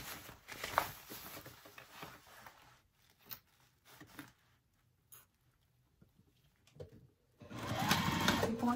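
Sewing machine stitching a tote bag, running in short bursts near the start and again loudly at the end, with quiet handling noises between and no talking.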